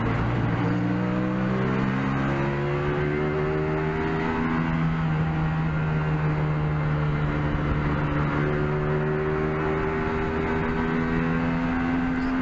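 Race car engine in a racing video game drones steadily throughout, with layered engine tones that rise and shift as the car accelerates, loud and constant with no voices.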